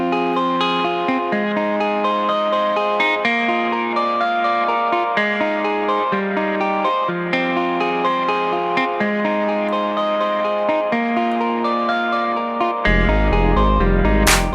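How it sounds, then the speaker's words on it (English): A music mix runs through reverb followed by an SPL Attacker transient plugin, giving sustained tonal chords with crisp, punchy attacks and a lush tail, then ending in a brief loud burst of broadband noise. "now let's add SPL Attacker after the effect to give us a little bit more transient and attack."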